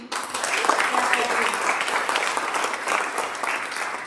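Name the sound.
audience applause at reception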